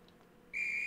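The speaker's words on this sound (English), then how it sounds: "I've heard the whistle." A dispatcher's whistle from the Roblox train game Stepford County Railway sounds abruptly halfway through, one steady, loud, high-pitched blast that holds to the end after a near-silent lead-in.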